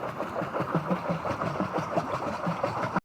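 A boat engine in the Roblox game Brookhaven runs steadily for about three seconds, a close, continuous mid-pitched motor drone with a faint rhythmic chug and no talking, stopping abruptly at the end.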